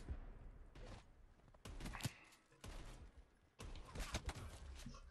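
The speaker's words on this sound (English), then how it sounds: "I can hear that dude unloading rounds" Enemy gunfire in the video game Call of Duty Black Ops 4: several bursts of rapid automatic shots, fairly distant and faint, coming in clusters with brief pauses between them.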